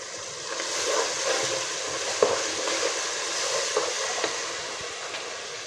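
Cubed vegetable pieces tipped into a hot pan for vegetable pulao hiss and sizzle in a steady, even wash, with a few soft clicks of stirring as the oil crackles around them.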